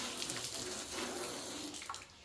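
Water runs steadily for wet sanding a lime green pearl coat sprayed over Rust-Oleum blue, a close, even splashing hiss with no talk.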